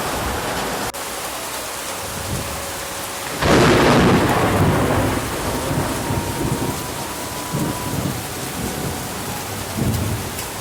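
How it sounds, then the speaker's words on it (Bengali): Heavy rain pours steadily with a loud thunder burst around the middle, sustained roaring downpour throughout; individual hail strikes are not clearly distinct within the dense wash of rain. "এমন বৃষ্টি হইতেছে ভাই, এবার শিল পড়তেছে"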